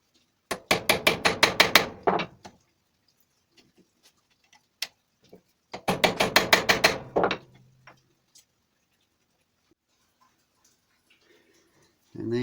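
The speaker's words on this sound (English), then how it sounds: "now you get the included punch for the kit and mushroom over the heads of the pins" Punch struck with a hammer to mushroom the pin heads on a first-generation Honda Civic door handle: two rapid bursts of sharp metallic taps, about a dozen blows each, close and loud, with scattered quieter ticks between and a brief voice.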